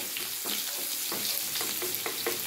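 Garlic frying in a pan, a soft steady sizzle broken by several quick stirring scrapes, fairly quiet and close, with no one speaking.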